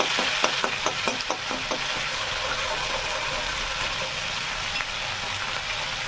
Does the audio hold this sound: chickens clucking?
no